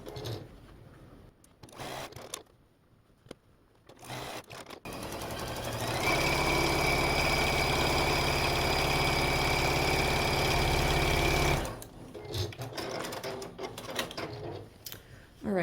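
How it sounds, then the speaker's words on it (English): A sewing machine stitches quilt pieces together in a steady, close, whirring run of several seconds, preceded and followed by brief handling noises and short starts. "I'm just going to sew them together in the way that I want."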